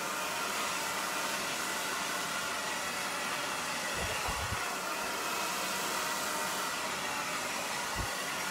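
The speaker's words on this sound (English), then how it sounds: "Whatever blow dryer you use, just make sure it gets pretty hot." A hot blow dryer runs steadily while drying long layered hair, a loud continuous airy roar with brief low thumps as it is moved around near the head.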